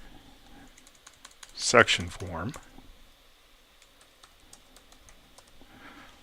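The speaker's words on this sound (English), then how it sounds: "Well, this is a lot of typing, but it's the best we can do." Rapid typing on a computer keyboard clicks away in short bursts, close and fairly light, while someone talks briefly over it during a programming tutorial on web forms.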